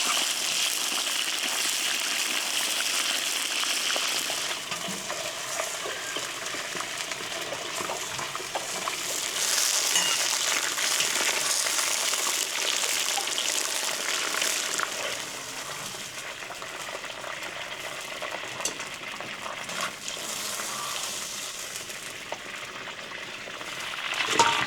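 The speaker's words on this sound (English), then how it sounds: "In goes the lamb. Hear that sizzle?" Lamb pieces browning in a pot, frying with a steady, soft hissing sizzle and faint bubbling crackle that continues evenly throughout with no talk.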